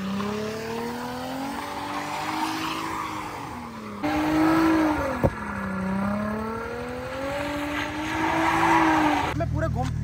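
A Nissan 350Z or Toyota Mark X 300G spins drifting donuts, its engine droning and rising and falling in pitch under long, continuous tire squeals, with a sharp knock partway through.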